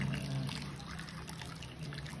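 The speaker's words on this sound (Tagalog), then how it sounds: "lalagyan po siya ng pinakulong tubig" Hot boiling water poured over fresh pili nuts, a steady close trickling and splashing liquid stream with a low gurgle underneath, continuous for the whole stretch.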